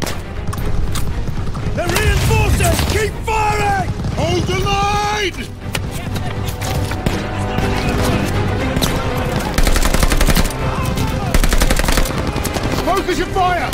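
Rapid machine-gun bursts in the video game Call of Duty: Vanguard, loud sustained rattling fire with occasional booms and mechanical clatter, continuing under shouted voices.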